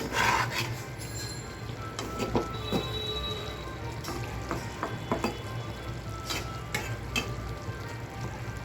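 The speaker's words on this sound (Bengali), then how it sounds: "নেড়ে চেড়ে দিচ্ছি" Taro stolons, shrimp and jackfruit seeds being stirred in a pan, a spoon scraping and rubbing through the mixture with a soft steady sizzle beneath, close and moderately loud, with scattered sharper scrapes and no talk.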